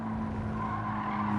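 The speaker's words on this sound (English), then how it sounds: "Stand on the brakes, get the car stopped" In the video game Gran Turismo 7, a race car brakes hard and its tires squeal in a steady, loud screech over the engine drone, lasting just over a second with no talking.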